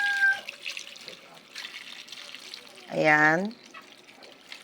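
Water poured from a dipper into a cooking pot for rice with tuna, heard as a steady close splashing and trickling pour. Someone speaks briefly over it.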